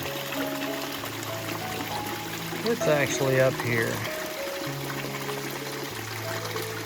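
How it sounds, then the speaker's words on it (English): Water flowing at Cattail Waterfalls in Big Bend, a soft continuous trickle and splash in the outdoors, mostly underneath a voice speaking through the middle. "we're back here at the Cattail Waterfalls"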